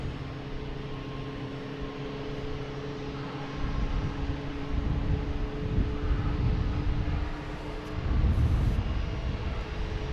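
Delta airliner departing Boston Logan for Paris, a steady distant engine drone with a low hum that swells louder in the second half.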